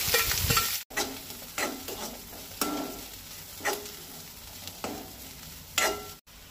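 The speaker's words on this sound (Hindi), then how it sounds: "कांदो बरो लायट ब्रावन जायसर परतूंक जाय" Chopped chilli and onion frying in a pan for Goan kanda poha, a soft steady sizzle broken by periodic scraping stirs of the spatula, close and fairly quiet, no voices.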